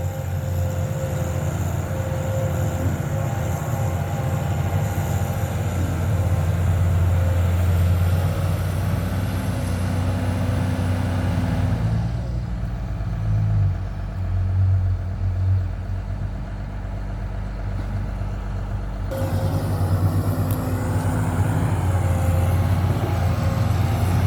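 A Komatsu PC200-7 excavator's heavy diesel engine runs steadily with a deep low rumble, nearby and continuous, briefly shifting pitch midway before resuming its loud drone.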